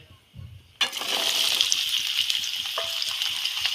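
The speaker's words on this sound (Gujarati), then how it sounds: "આપણે પહેલા નાખીશું ગાજર" Carrots tipped into hot tempered oil in a pan, a sudden loud burst of sizzling that settles into a steady, close frying hiss after a brief quiet lead-in.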